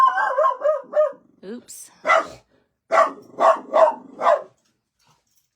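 A pet dog on guard barks at people walking past outside, giving a few quick yips and then a run of loud, evenly spaced barks close by, with a brief spoken word mixed in.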